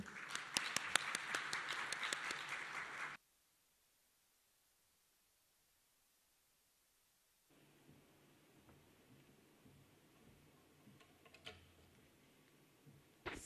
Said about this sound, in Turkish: Pınar Hanım'ı alkışlarınızla davet ediyorum.